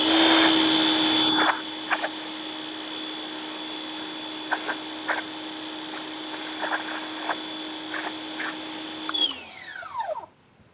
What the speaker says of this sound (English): get my pressure washer, and just clean my brush before applying it back into my bucket